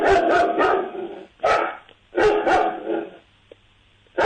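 A man imitates a dog, voicing a series of loud barks and yips in short bursts with brief pauses between them, close and alone.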